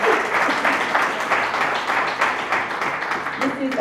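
A gala audience at an awards ceremony applauds steadily, a dense, even wash of many hands clapping at close range that holds for several seconds without fading.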